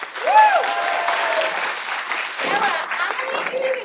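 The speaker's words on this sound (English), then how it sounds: "Give them one more clap." Crowd applause fills the whole stretch, steady and fairly loud, with a whistle or cheer rising near the start and voices mixed in.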